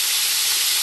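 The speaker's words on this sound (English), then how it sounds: "So I put them in the skillet, skin down to start frying" Chicken thighs fry skin-side down in avocado oil in a skillet, giving a loud, steady, close hiss and sizzle with no talking.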